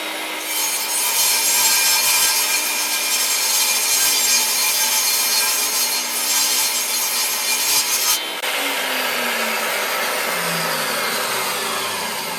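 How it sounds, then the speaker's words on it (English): A table saw rips steadily down the length of a wooden speargun board, a loud continuous whine and rasp, then the blade spins down as the cut finishes. "I'm going to take a rip cut down the length of this board with my table saw"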